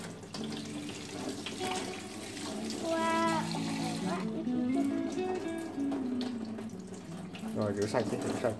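Tap water runs steadily into a sink while freshly picked strawberries are washed, a continuous splashing stream with voices talking over it.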